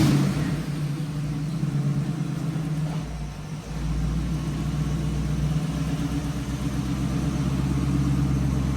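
A roadster's tunnel ram engine runs loud and close, with a deep, lumpy rumble that swells into revving and settles back, steady throughout with no talk.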